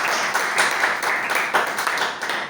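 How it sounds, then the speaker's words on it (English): Toastmasters club audience clapping for members who used the word of the day, a dense, steady patter of many hands at moderate level, lasting a couple of seconds without talk. "Clap for them."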